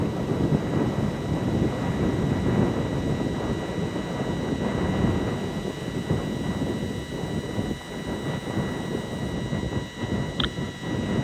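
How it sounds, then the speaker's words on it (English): Deep, steady roar of a ULA Vulcan rocket's engines burning in flight on its first launch, a continuous rumbling broadband noise with no speech and a faint tonal hum throughout. "Engines continue to burn normally, everything looking good."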